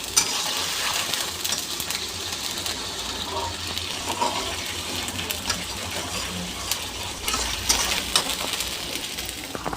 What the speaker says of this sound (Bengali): তাহলে মশলাটা ভেজে নিচ্ছি।